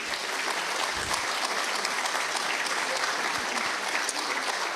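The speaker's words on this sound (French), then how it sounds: "on peut d'ores et déjà applaudir ces étudiants" Sustained applause from an audience at a university institute event honoring students back from study abroad, an even, continuous clapping that stays fairly distant and moderate in level.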